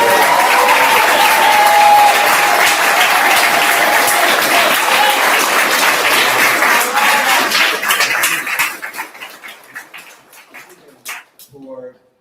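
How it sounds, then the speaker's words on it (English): Sustained applause from the crowd at a memorial celebration of life, steady and full for about eight seconds before thinning out into scattered claps and fading away. "I hope you all will join me in giving Hakimu a big round of applause"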